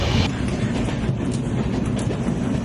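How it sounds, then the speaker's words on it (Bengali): The Kaziranga Express passenger train rumbles steadily along the tracks through Dankuni Junction, a continuous close-up roar with faint rhythmic clatter throughout. "বলতে বলতে আমাদের ট্রেন ক্রস করছে ডানকুনি জংশন"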